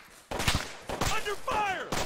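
Bursts of gunfire from suppressing fire in the military shooter Arma 3, a few sharp volleys spaced across the moment, close and loud with voices present.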